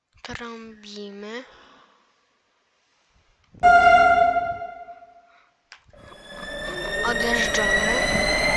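Horn of a Warsaw M2 metro train in Roblox, a loud sustained tonal blast lasting about two seconds after brief talking, then a short click and a rising hum of the train starting up.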